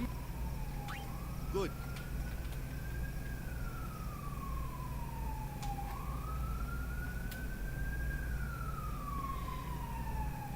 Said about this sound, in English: Don't know if you can hear the siren in the background,